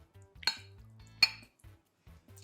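A spoon stirring an olive-oil dough mixture in a bowl, soft scraping broken by two sharp clinks of utensil against the bowl.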